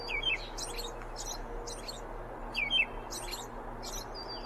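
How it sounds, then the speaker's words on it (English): A small bird chirps in short, bright bursts, about half a dozen calls spaced across a few seconds over a faint, steady background hum. "This is chirping bird, okay?"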